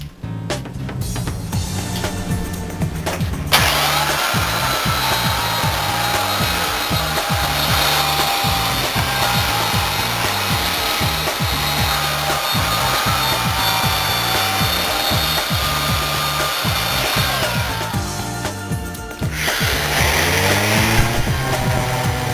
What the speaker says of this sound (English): It's ready for sanding now.